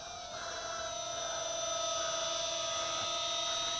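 A Skytech M71 micro tricopter drone in flight, its tiny motors giving a thin, high-pitched continuous whine that holds steady throughout, close by and alone.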